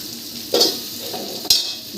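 Tomatoes are tossed into frying onions in a pan for chicken biryani, giving a continuous sizzle with two sharp scraping bursts from stirring.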